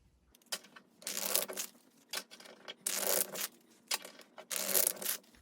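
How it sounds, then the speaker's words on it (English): Cards are shuffled close by in several quick riffling bursts separated by short pauses, crisp and fairly quiet. "Dealer shuffles the deck and has the player to the right cut the deck."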